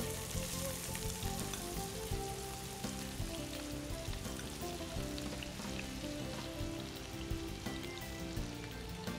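Chopped onion frying in oil with cumin gives a steady, dense sizzle that crackles close up for the whole stretch, with no one talking.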